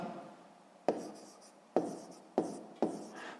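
A pen writes by hand on paper in a math exercise, with a few sharp taps and short scratching strokes, close and fairly soft against quiet room tone.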